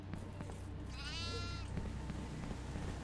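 A goat bleats in the horror video game Devour, one drawn-out wavering cry standing out over a steady low rumble of game ambience and background music.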